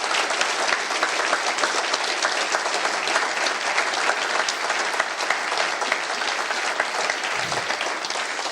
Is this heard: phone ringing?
no